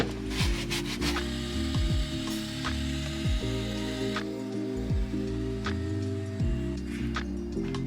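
Hand scrubbing at a rust stain during a car detail on a lowered Honda Odyssey, a steady back-and-forth rubbing that repeats in quick strokes at close range and carries on without a break.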